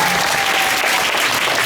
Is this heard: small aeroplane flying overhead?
no